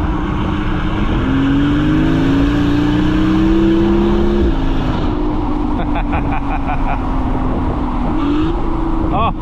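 A straight-piped Mercedes S65 AMG with a 6.0 L V12 and muffler delete roars loud and close, a deep rising drone climbing through revs, dropping, then surging again, with a voice talking over it.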